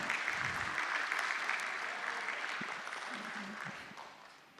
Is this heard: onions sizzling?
no